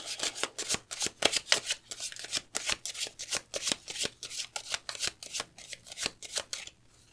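Lenormand cards being shuffled by hand during a card reading, a steady run of quick riffling flutters repeating for about six seconds at close range, then stopping, with no talk.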